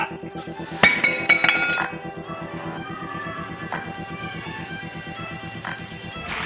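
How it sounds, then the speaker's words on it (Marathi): A glass is dropped and clinks, a bright sharp impact followed by a few ringing clinks, heard close over a steady background hum. "सारखं जरा ग्लास पाडतो."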